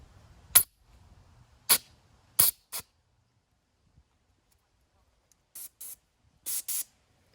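Several short, sharp bursts of an airless paint sprayer spraying water hiss, some single and some in quick pairs, separated by quiet gaps.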